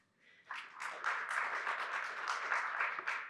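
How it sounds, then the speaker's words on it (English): Audience applause welcoming a keynote speaker at the Korea AI Summit 2023 rises quickly after a brief quiet start and holds as steady, dense clapping from a large crowd through the end. "Ladies and gentlemen, please welcome me with a big round of applause"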